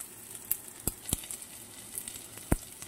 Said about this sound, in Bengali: পেঁয়াজগুলো হালকা ভাজা হয়ে গেছে